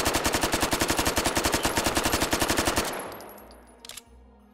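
A machine gun fires a long, rapid, steady burst in the VR shooting game Hot Dogs, Horseshoes & Hand Grenades, very loud and close. It stops abruptly after about three seconds, leaving a fading echo and a few faint clicks.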